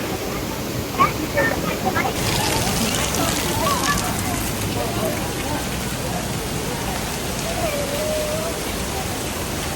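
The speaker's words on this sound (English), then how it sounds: "We're gonna walk behind that waterfall." Rainbow Falls waterfall heard from up close as a steady broadband rush of falling water, loud and continuous for the whole stretch, with brief voices and small sounds near the start.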